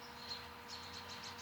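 Birds sing outdoors in early April, several thin, repeated chirps and whistled notes at moderate distance over a soft steady background hum, with no voices.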